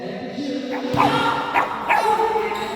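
A dog barks and yelps angrily in short, agitated bursts close by at a basketball game, three or four sharp calls over background noise.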